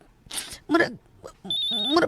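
A cellphone rings with a sustained high electronic tone near the end, preceded by brief bursts of voices and noise close by.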